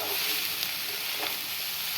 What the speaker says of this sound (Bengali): এবারে এই যে কাঁচা লঙ্কা দিয়ে দিলাম, দেখো।